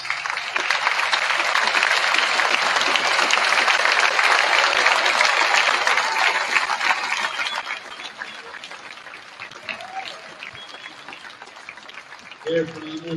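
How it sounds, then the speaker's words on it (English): Graduation crowd at Athens High School applauds parents and grandparents, a dense sustained clapping from a large audience that holds strong for about seven seconds, then thins and fades toward scattered claps. "if you would stand this time for a round of applause"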